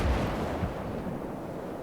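A cannon fires in the Gates of Hell real-time strategy game, a heavy boom at the start followed by a second low thump and a fading rumble, with no talking.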